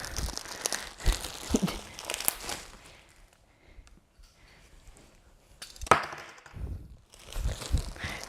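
Packing tape being torn and peeled off the box of a 15.4-inch production monitor makes close crinkling, ripping sounds in two busy stretches with a quieter gap between them.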